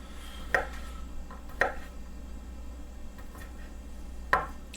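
A knife cuts through cured meat on a board, giving three sharp, separate chops spaced a second or more apart, fairly close, over a quiet background hum.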